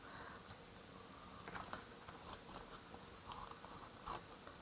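Paper snips cut off excess sticky paper in a craft project, giving a few short, crisp snipping clicks scattered over a quiet background.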